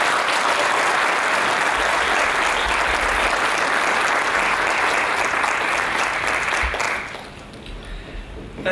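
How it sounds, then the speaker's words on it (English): Crowd at a 2018 graduation ceremony applauds warmly for a university president, a broad sustained clapping roar that drops away sharply near the end, leaving a quieter room. "Please join me with a warm round of applause for President Jahanian."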